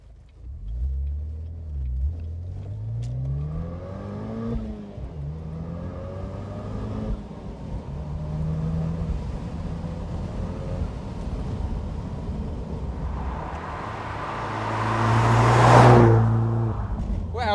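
Opel GT with a 260 hp engine accelerating hard through the gears from inside the cabin, revs rising and dropping at each shift, engine note climbing to a loud peak near the end.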